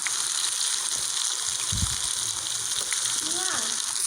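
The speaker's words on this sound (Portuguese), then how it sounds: "Enquanto a linguiça aqui tá assando" Sausage roasting in the Toca Boca video game, a steady hissing sizzle effect that runs throughout, with a brief low thump and a faint voice near the end.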